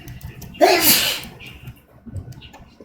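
A single loud, sharp sneeze bursts out near the microphone, standing clearly above a low murmur of room noise during a tabletop game session.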